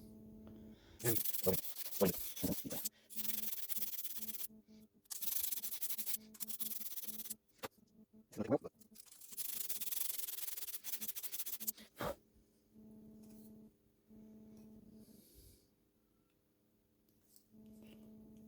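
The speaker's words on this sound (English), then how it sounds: "So while I was hand sanding" Sandpaper rubs by hand over the ring of a knife handle in close, raspy strokes, in several long bursts with brief pauses, fading to quiet near the end.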